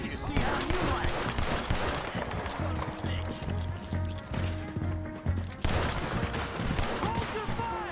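Gunfire in Red Dead Redemption 2 comes as a dense fusillade of rapid, overlapping shots with occasional hoofbeats, the volley running steady and close throughout.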